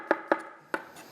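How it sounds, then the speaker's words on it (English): A knife chops cremini mushrooms on a board for risotto, three crisp close thuds with a short pause before the last. "So just get some mushrooms chopped up."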